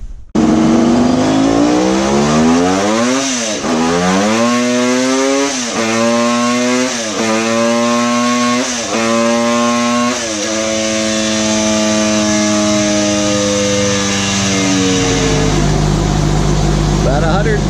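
Allen Millyard's Kawasaki H2 750-based five-cylinder two-stroke engine running on a dyno, loud and close, a raw buzzing roar that revs up and down in repeated surges then holds high before dropping off, continuous throughout.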